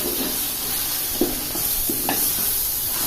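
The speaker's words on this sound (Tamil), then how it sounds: "எல்லாம் நல்லா நம்ம மசாலா வாசனைலாம் போகிற மாதிரி நல்லா வதக்கி விடுவோம்" Masala for country chicken biryani, with garam masala and chili powder, sautéing in a pan, a steady sizzle broken by a few soft scrapes and knocks as it is stirred.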